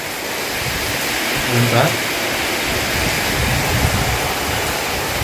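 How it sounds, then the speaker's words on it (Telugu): Heavy rain pours steadily on an evening in a village, a dense, unbroken wash of noise close around, with a brief voice speaking once. "వాన్ అయితే మళ్ళీ స్టార్ట్ అయిందనమాట."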